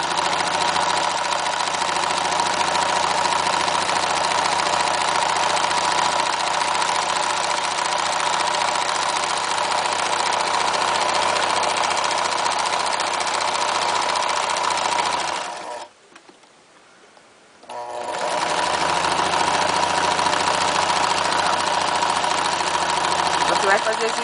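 A sewing machine running zigzag stitches along fabric edges, with a loud, steady mechanical whir that stops briefly and then resumes. There is no talk.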